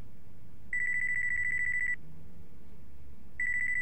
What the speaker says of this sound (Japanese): 俺の電話だ。